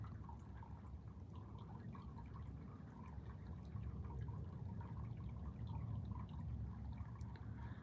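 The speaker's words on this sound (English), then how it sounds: "I don't know if that fountain, the running water, can be heard from here." Steady running water from a fountain, a soft continuous splashing and trickling that stays even throughout with no voices.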